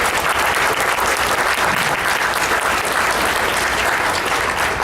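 A conference audience gives a speaker a big round of applause at a motivation talk, with loud, dense, sustained clapping from a crowd that holds steady the whole time and carries no speech.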